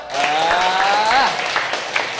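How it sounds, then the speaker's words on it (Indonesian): A class of junior high students clapping for a classmate during an ice-breaking game, brief scattered applause mixed with voices and a sustained tonal sound. "Tepuk tangan untuk Rido."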